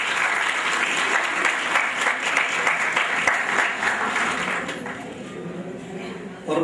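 An audience at a university farewell party applauds in welcome of Dr. Humayun Abbas Shams, a thick, steady wash of clapping that holds for several seconds and then thins out toward the end.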